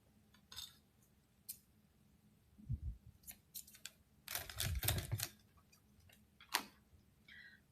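Scissors snip through a bit of fuzzy 1980s yarn, a few quiet, sharp clicks and cuts spaced out with short pauses, close and alone.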